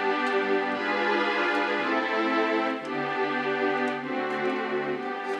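Sustained piano chords in a Ghanaian worship-song progression that passes through a diminished chord, played full and resonant at an even moderate tempo, close and alone without any voices.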